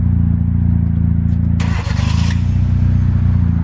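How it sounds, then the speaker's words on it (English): A car engine idles steadily with a low, loud rumble throughout, broken near the middle by a brief burst of hiss and a short stutter before the steady running resumes. "Now that his car's running, look at this."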